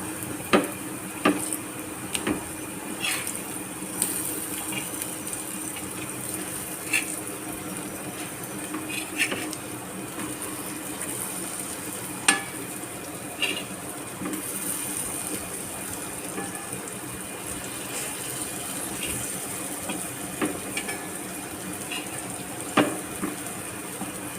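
Slices of elephant foot yam fry in hot oil with a continuous soft sizzle. Scattered sharp pops and crackles break through it at irregular moments.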